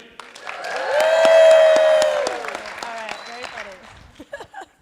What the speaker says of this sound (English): can you just give her a massive cheer